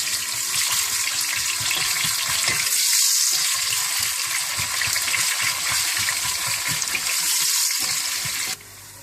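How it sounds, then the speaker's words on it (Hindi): Sliced onions frying in hot oil for haleem, a bright constant sizzle with soft stirring and scraping underneath, close and loud, cutting off abruptly near the end. "उसमें आप प्याज डाल लें। प्याजों को आप हल्का सा भून लें।"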